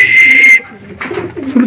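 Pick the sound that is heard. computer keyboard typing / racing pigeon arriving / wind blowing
racing pigeon arriving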